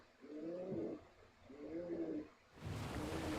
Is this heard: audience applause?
no